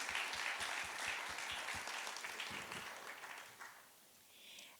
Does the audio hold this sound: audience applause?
yes